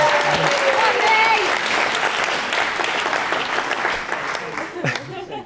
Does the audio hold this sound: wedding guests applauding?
yes